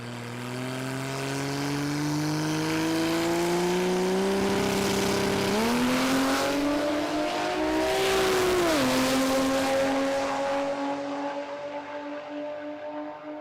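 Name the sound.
Ford Falcon ute with Barra engine drag racing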